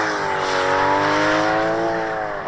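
An Aston Martin DBS engine roars loud and close, its rising harmonic whine sweeping upward then easing over a steady road rumble, with a hint of tyre squeal under full power.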